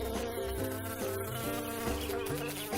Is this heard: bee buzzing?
yes